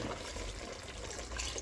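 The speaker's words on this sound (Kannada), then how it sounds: "ಈಗ ಮಿಕ್ಸಿ ಜಾರ್ ತೊಳೆದ್ಬಿಟ್ಟು ಸ್ವಲ್ಪ ನೀರು ಹಾಕ್ಕೊತಾ ಇದ್ದೀನಿ" Water sloshing and pouring from a rinsed mixie jar into a pot of partly cooked mutton for biryani makes a soft, steady liquid rush, fairly quiet and close.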